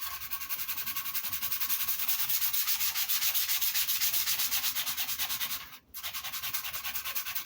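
Guitar wood being sanded by hand with 220 grit sandpaper for a Les Paul build, a close, rhythmic back-and-forth scratching that pauses briefly before resuming.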